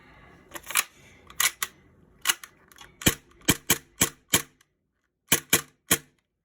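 A magazine seated into a Tokyo Marui HK45 airsoft pistol fitted with an RMR sight, a close series of about a dozen sharp plastic-and-metal clicks and clacks in uneven groups with short quiet gaps.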